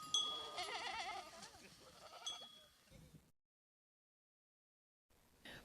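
Goats bleating on a large livestock farm that also keeps pigs, chickens, turkeys and rabbits: several overlapping wavering bleats, close and fairly loud, over about three seconds, then near silence before a faint return of sound.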